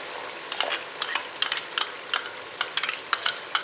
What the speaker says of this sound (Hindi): अब मसाले डाल के भून लेंगे